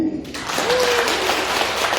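A singing class breaks into applause after a song, a steady wash of many hands clapping close by, with a brief held vocal note at the start.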